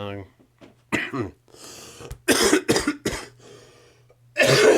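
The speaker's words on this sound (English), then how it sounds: "Sorry about the coughing." Several harsh coughs burst out in quick clusters, close and loud, with brief pauses and a low background hum between them.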